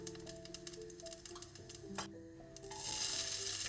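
Mustard seeds and urad dal fry in hot oil in a pan, giving quiet, steady crackling with scattered pops and ticks, then a brighter, louder sizzle swelling toward the end.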